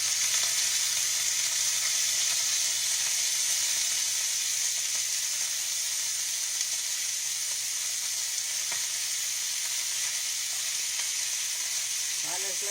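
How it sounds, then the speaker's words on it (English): Beef sizzles in oil in a skillet with a steady, close, loud frying hiss that continues unbroken, with occasional faint stirring sounds and no clear talk. "we're fixing to fry our last skillet, and we need another tablespoon of oil"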